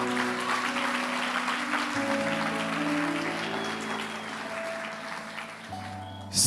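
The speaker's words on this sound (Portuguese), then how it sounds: "Você pode dar uma salva de palmas para o Senhor?" A church congregation applauds during a worship service, with steady, dense clapping that runs nearly the whole time over sustained musical tones, then fades near the end.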